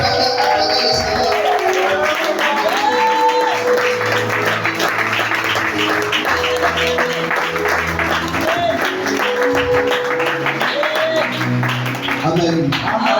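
A church congregation at a Sunday service claps and cheers in acclamation, steady crowd applause mixed with shouts and music, with a voice speaking over it.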